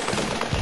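Automatic gunfire in a battle: a brief, loud, continuous crackle of rapid shots with no voices.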